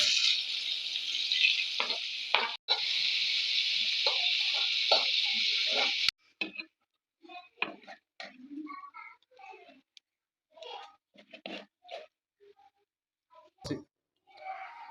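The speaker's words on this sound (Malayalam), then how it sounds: "ഉള്ളിയും കൂടെ വറുത്തെടുക്കുക" Loud, steady sizzling of onions frying in ghee for several seconds stops abruptly, leaving quiet clicks and soft talk.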